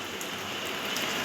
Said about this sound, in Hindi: तो आप देख सकते हैं बारिश